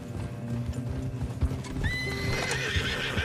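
Several horses trot with quick, overlapping hoofbeats in the video game Red Dead Redemption 2, and a high whinny cuts in near the end over the busy clatter.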